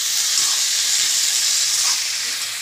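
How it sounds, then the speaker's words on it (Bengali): Water poured onto frying spice masala in a pan while cooking a potato curry, a loud, steady steaming hiss and sizzle that holds evenly for a couple of seconds, close up. "এবার সমপরিমাণে জল দিতে হবে।"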